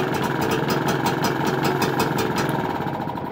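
A Vire engine fitted with Champion L86C double copper core spark plugs idles with a steady, rhythmic mid-to-low chugging and vibration that continues unbroken, loud and close, with no talking.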